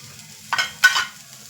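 Two short scraping stirs of a spoon through kothu parotta mix frying in a pan as coriander leaves go in, each a brief rustling scrape over a faint low hum.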